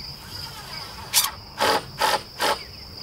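A screw driven at a 45-degree angle into lumber for a floating shed foundation, heard as four short, close bursts of a power driver whirring after a steady high whine.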